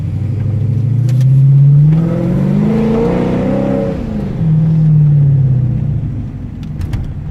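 A Chrysler 300 SRT-8 with a straight-pipe exhaust pulls off, its loud, raw V8-style rumble rising in pitch through the revs, then settling as it moves away.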